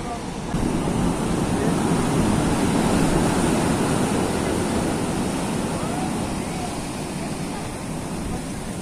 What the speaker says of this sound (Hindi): पानी की आवाज़ है नीचे से, बहुत ज्यादा लहरें ऊपर तक आ रही हैं